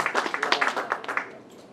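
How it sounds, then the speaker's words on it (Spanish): Church congregation clapping at a Sunday service, a dense burst of many hands that thins out and fades toward the end, with no talking over it. "Fuertes aplausos al Señor"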